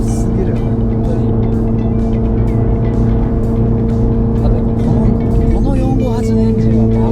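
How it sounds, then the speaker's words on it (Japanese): A Ferrari 458 V8 fitted with a Power Craft aftermarket exhaust drones steadily and loudly, holding a constant, unwavering tone throughout with no clear revs or shifts. "エンジンは爆音でも全然不快感ないな"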